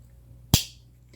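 A single crisp snap as the blade of a Rough Ryder copper and black smooth bone trapper pocket knife flicks open, close up and isolated against a quiet background.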